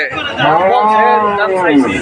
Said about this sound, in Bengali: দর্শক দেখতে পাচ্ছেন গরুটা আমাদের বিপু